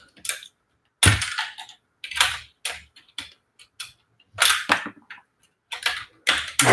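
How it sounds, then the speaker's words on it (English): Keycaps are pried off an Apple Pro Keyboard during a teardown: sharp plastic clicks and snaps come in irregular bursts, close and crisp, with brief silent gaps between pulls. "Let's keep taking off keycaps."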